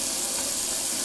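Steady broadband hiss of tap water running continuously into a sink while preparing for a wet shave in summer, filling the short clip at a constant level with no talk.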